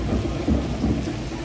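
Rain falls steadily during a rainy-day chariot procession in Vadia, Gujarat, with a low rolling rumble of thunder under the continuous close hiss of the downpour.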